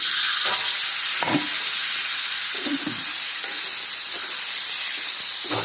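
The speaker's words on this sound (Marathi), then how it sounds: "आता ह्याच्यामध्ये कारले टाकतो" Bitter gourd dropped into a pan of frying garlic and onion sizzles loudly and continuously, with a hissing steam layer and several stirring scrapes and knocks of a spatula against the pan.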